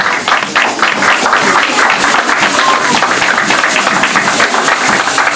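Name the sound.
congregation applauding to acclaim Jesus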